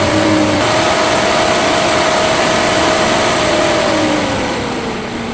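Pentair Intelliflo variable-speed pool filter pump running loudly up close, a steady motor hum with a tonal whine that glides gradually downward in pitch as the speed is lowered.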